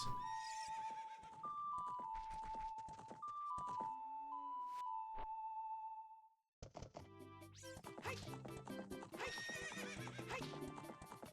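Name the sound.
horse neighing and hooves in Ocarina of Time video game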